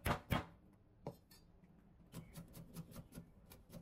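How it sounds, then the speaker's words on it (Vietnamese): A knife chops and minces garlic cloves and an onion on a cutting board, a few loud knocks followed by a run of quicker, lighter taps close by with no talk. "Bây giờ, mình sẽ băm nhuyễn cái phần tỏi và hành này ra."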